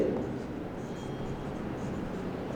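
Pen or chalk scratching steadily during a fifth-grade geometry lesson on parallelograms, a continuous close rasping texture with no pauses.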